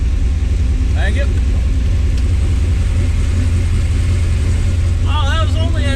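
Fast 1969 ZL1 Camaro on a drag strip, heard as a heavy, constant low engine rumble from close by that never lets up, with a brief voice-like warble over it.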